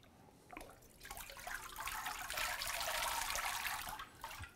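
Water streams and trickles back into a vat as a papermaking mold with its deckle is lifted out, a steady close splashing pour that tapers at the end, with no voices.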